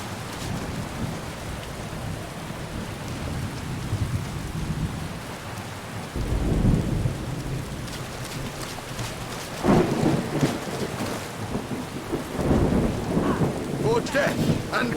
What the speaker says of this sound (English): Let's hope the rain stops.